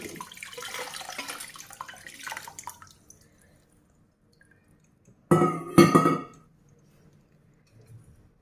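Water runs and trickles for a few seconds, then silence, followed by a short burst of pouring splashes and faint drips as water is poured to soak idli and dosa batter ingredients.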